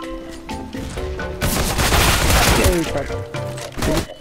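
Rapid bursts of gunfire in a competitive CS:GO match crackle and rattle, loudest in the middle, while excited players talk over the shooting.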